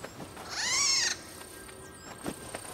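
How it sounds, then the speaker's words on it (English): A cat in the video game Nioh 2 gives one clear, drawn-out meow that rises and falls over about half a second. Quiet game ambience follows, with a few soft taps. "Oh no, it's a cat."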